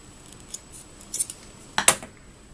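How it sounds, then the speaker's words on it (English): Scissors snip through a knot of Bernat bamboo yarn in a quiet room, giving a few short, crisp metallic clicks and snips close up, with the sharpest cut near the end. "And now I'm going to cut off this knot."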